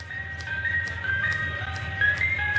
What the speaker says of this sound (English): do I hear the ice cream truck?